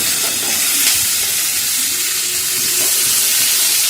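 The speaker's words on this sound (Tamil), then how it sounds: "இப்போ கோவக்காயை போட்டு நல்லா வதக்கிக்கலாம்" Ivy gourd (kovakkai) sautéing in a hot pan makes a steady, loud hiss and sizzle that holds evenly throughout, with no talking over it.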